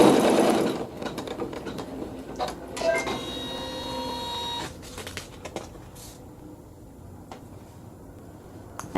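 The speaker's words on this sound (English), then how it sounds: "still with the neutral thread, I'm going to sew a tack down stitch" A sewing machine works a short tack down stitch in neutral thread, giving a fast close mechanical rattle in quick bursts that slows and stops partway through, followed by faint handling clicks.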